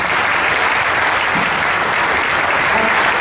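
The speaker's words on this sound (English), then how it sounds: "So let's give them a round of applause." An audience at a governor's town meeting in Milford claps in a loud, steady wash of applause that continues unbroken for the whole few seconds.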